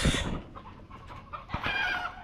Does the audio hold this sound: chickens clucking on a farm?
yes